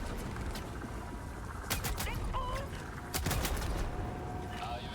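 Gunfire in Helldivers 2, bursts of sharp shots and rapid volleys over game noise, with people talking throughout.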